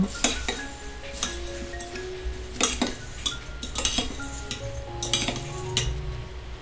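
Puffed rice is mixed with gojju in a bowl for North Karnataka girmit, with a spoon scraping and clinking against the bowl in irregular stirring strokes, close and moderately loud.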